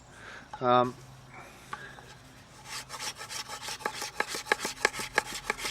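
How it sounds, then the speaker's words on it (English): A parang's scraper edge rasps along wood in a run of quick, regular strokes that grow louder and more rhythmic, heard close and alone after a few soft handling noises. "Just a quick go with the scraper edge."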